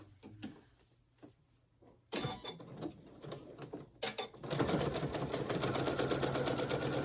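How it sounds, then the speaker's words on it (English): A sewing machine stitches along marked lines on fabric for a bowl cozy, with scattered clicks and brief bursts at first, then a steady run of close, even stitching in the final seconds. "you're going to sew where your lines are"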